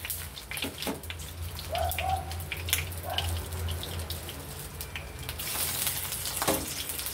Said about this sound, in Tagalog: Iprito natin muna siya para mamaya gagawa tayo ng gravy.